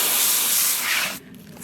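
Water sprayed in one continuous close hiss lasts just over a second during indigo vat setup for dyeing yarn, then cuts off to near quiet.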